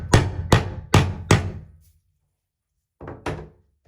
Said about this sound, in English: we're gonna use the hammer and give it a good tap